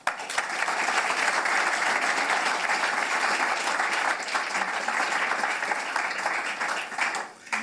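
An audience applauds to welcome Tanya Plibersek at a Lowy Institute address: sustained, even clapping from a sizeable crowd that holds steady for several seconds before tapering off at the end.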